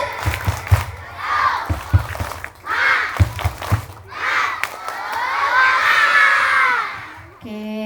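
Young children at an Islamic storytelling event chant and clap in bursts of rhythmic claps with shouting voices, then a long rising cheer from the crowd of kids, loud and close.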